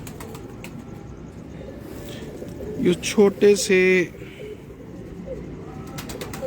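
Pakistani pigeons give a few soft, close coos in a short cluster midway, over a low background, while someone speaks briefly.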